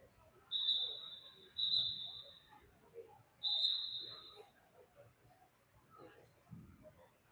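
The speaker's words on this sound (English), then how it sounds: "A lot of whistles to tell people to tie their caps up." Shrill referee whistles at a youth water polo match in a pool, three sustained blasts in close succession at moderate distance, followed by faint voices and crowd murmur in an echoing indoor space.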